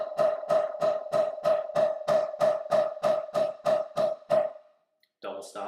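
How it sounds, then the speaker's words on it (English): Drumsticks held in matched grip play eight strokes on each hand, a steady, even run of crisp, close clicks about a third of a second apart that stops abruptly, followed by a brief burst of another sound. "8 on a hand sounds something like this."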